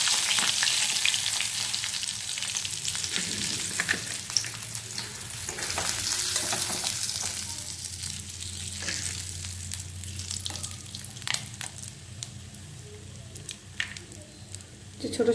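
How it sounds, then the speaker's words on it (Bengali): Pieces of katla fish shallow-frying in hot oil on low heat for Bengali katla kaliya, a continuous close sizzle with occasional stirring and spatter, heard alone. "একইভাবে একটু লাল করে ভেজে নেব বাকি মাছগুলো।"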